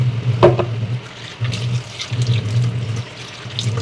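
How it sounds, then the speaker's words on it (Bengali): Cooking utensils are washed under running tap water at a kitchen basin, with a steady close stream of water and brief clinks and splashes as items are handled. "আমরা এগুলো ধুয়ে নিই।"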